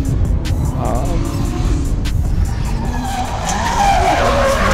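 A Nissan S13 drift car, chased by a BMW, slides through a drift competition course with a continuous loud roar of engine and tyre skid, while a commentator talks over it and sharp clicks and crowd noise sit in the background.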